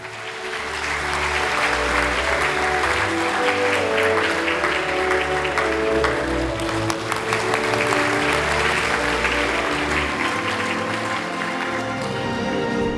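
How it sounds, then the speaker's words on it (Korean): Sustained applause from a large crowd at a Korean launch ceremony and rally, steady and full throughout, with a few voices murmuring underneath. "박수로 맞아주시기 바랍니다"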